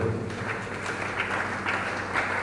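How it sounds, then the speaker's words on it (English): Applause from the audience at a diocesan health assembly in Masaka, heard as a steady, moderately loud wash of clapping with no speech over it. "we clap for the general"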